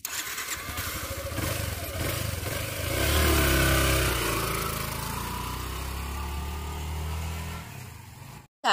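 A motorcycle engine idles and revs up with a steady low rumble, rising in intensity before cutting off abruptly at the end.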